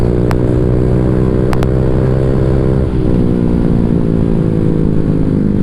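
A Honda Vario 150 scooter fitted with a Black Devil R2 long exhaust idles and revs loudly up close, a steady droning engine note that swells and rises with throttle, with no speech over it.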